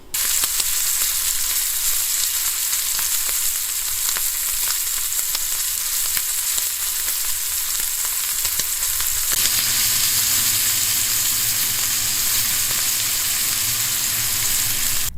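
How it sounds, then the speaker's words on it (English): Pure beef fat sizzles and toasts in a small oven with a steady, dense crackle and hiss throughout, close and loud, with no voices. "You just take some pure beef fat and put it in a container and toast it up"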